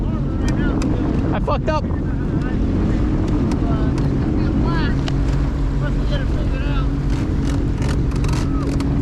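A jet ski idles on the water with a steady, loud engine drone buffeted by heavy wind noise, while a person speaks over it and shouts briefly.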